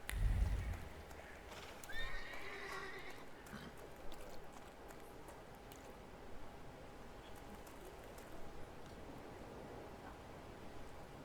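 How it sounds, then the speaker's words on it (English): Horse neighing and hooves clopping in The Thaumaturge game soundscape, faint and mixed with ambient noise and a low steady hum. "I meant to take the horse out for a ride, so get on"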